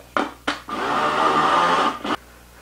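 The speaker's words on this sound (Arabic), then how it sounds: "اثناء الطحن بتضيف عندي البصل لينطحن" An electric blender grinding onion whirs in short pulses, two quick bursts followed by a longer steady grind of about a second and a half, then a final brief pulse.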